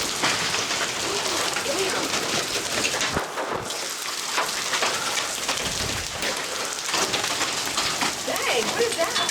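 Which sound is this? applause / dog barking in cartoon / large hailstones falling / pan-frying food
large hailstones falling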